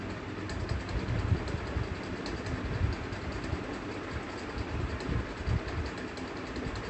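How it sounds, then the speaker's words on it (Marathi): A sewing machine stitches a straight seam on old saree fabric with a continuous, close mechanical whir and rapid chatter that holds steady throughout. "दुसऱ्या साईडला सुद्धा आपल्याला बघा तशी शिलाई मारून घ्यायची आहे सरळ"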